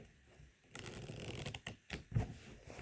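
Unsleeved Keyforge cards are riffle shuffled by hand, giving a quiet, close burst of rapid fluttering card snaps followed by a soft tap as the deck is squared, with no talk.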